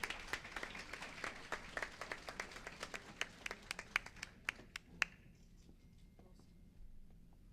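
Scattered clapping from a small audience at a Sonora panel event, a handful of distinct sharp claps that thin out and stop after about five seconds, leaving a quiet room with faint low background noise.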